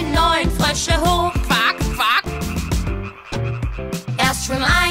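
Cartoon frogs croaking in a children's counting song, rhythmic voiced croaks and quacking sounds sung over music, likely imitated by voices.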